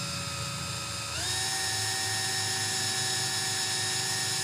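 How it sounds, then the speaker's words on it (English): A small drill whines steadily as it bores a little hole through wood for sublimation car charms, its pitch stepping up partway through and then holding a high, close, continuous tone. "you're just gonna wanna drill just a little hole"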